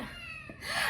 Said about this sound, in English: I'm so sorry for the cat. I don't know why he's crying.